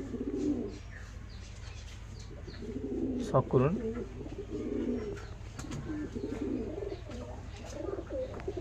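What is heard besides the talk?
pigeons cooing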